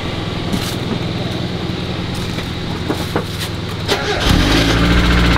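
A car engine cranks with a rapid chattering starter whir, then catches near the end and settles into a loud, rough, low rumbling idle close by.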